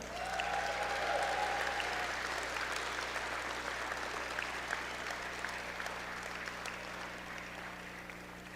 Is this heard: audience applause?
yes